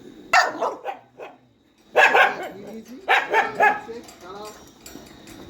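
Several pet dogs bark in short, loud bursts while eating carrot, bitter gourd, cucumber and tomato, with a few yips and whimpers between clusters close to the listener.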